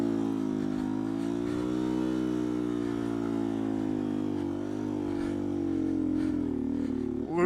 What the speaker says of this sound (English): I'm slipping the clutch.